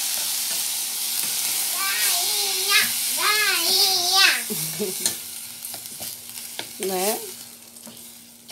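Rice is poured into a hot pan and sautéed, setting off a loud, steady sizzle with stirring scrapes, while a child chatters and a voice cuts in close by.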